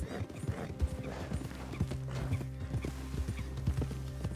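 Horse hooves clip-clop in a steady trotting rhythm while riding in Red Dead Redemption 2, moderately close, over a low sustained game ambience with a faint whinny.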